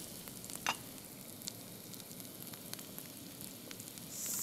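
Mashed potatoes with black pepper and salt are mixed in a hot pan, giving a faint steady sizzle with soft intermittent stirring scrapes and clicks, close by.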